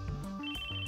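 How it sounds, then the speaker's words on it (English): A mobile phone ringtone from the visual novel Chaos;Child plays a bright electronic melody of stepped tones, loud and clear for about a second with no voices. "His phone went off in his pocket."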